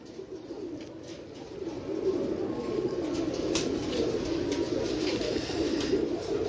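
Pigeons from a hobbyist's loft coo steadily in a dense, low, murmuring chorus that grows fuller after the first couple of seconds, with no talk over it.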